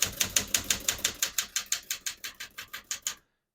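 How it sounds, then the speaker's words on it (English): Typing on a 1964 Smith-Corona Galaxie portable typewriter: about fifteen crisp, evenly paced key strikes clack up close, then stop abruptly into silence. "We're going to keep that on single for now and finish typing."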